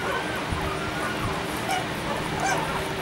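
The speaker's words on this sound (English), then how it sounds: "very big, strong, healthy newborn pups" Big, healthy newborn puppies whimpering and yipping softly in a busy cluster of small cries, close by, over a low background murmur.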